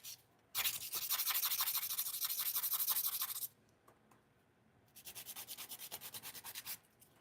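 Someone files their own fingernails with a 100 grit nail file, making close, crisp rasping strokes in a fast back-and-forth rhythm, in two bursts of about three and two seconds separated by a short pause.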